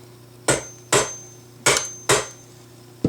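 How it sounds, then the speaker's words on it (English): Five sharp metallic hammer taps on a center punch marking a Saiga rifle part, evenly spaced and close, each with a brief ringing decay. "that's where you need the hammer"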